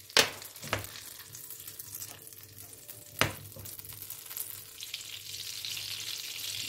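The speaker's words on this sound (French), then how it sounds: "Dans une poêle, vous faites fondre votre beurre." Butter melts in a frying pan with a soft, continuous sizzle, broken by a few sharp clatters of the pan or utensil near the start.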